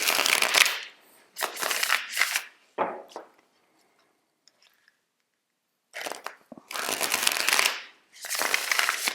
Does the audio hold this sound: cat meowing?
no